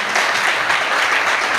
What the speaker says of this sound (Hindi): मैं चाहता हूँ उनके लिए एक जोरदार ताली चाहिए हमारे सर के लिए